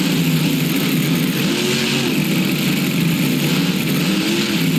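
A heavy monster truck engine in BeamNG.drive drones and revs continuously, a steady loud growl with slight rises in pitch, no voices.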